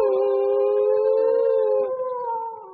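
Dogs howl in a ghost-themed Telugu movie scene, a long sustained mournful wail with layered tones that wavers and fades near the end, loud and close with no talking.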